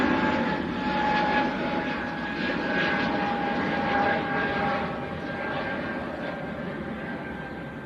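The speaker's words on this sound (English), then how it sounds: "That is EasyJet to Paphos down in Cyprus." EasyJet airliner at Manchester Airport bound for Paphos, a loud sustained jet engine roar with a steady whine, fading slightly toward the end, no talking.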